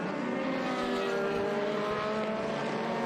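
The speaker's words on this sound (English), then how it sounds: "this is a beautiful sound going by here with all these formula cars, open wheel engines coming by" Open-wheel formula race cars at WeatherTech Raceway Laguna Seca, engines droning loudly and steadily as they pass, with no voices.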